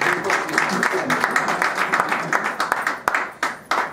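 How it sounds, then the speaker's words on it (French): Applause at a celebration of Capricorn birthdays, a lively burst of clapping that thins out into scattered sharp claps toward the end, with voices mixed in. "Et on va applaudir Monsieur Ernest Itela"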